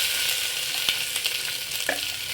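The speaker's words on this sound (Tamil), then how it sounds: "வெங்காயம் நீல வாக்கில் வெட்டி வச்சுருக்கேன் அதை போட்டுக்கிறேன்" Sliced onions drop into hot oil with fennel seeds and crackle, a steady soft sizzle broken by a few sharp pops and stirring clicks, close and moderately quiet with no voices.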